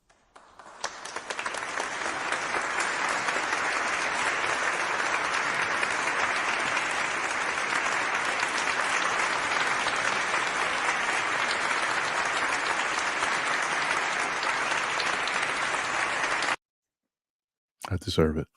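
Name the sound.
applause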